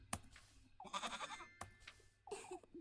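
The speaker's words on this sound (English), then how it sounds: "He's a goat, Rosemarine." A goat bleats several times in the video game Little Goody Two Shoes, quavering, wavering cries separated by short gaps, heard fairly quietly with faint background game ambience.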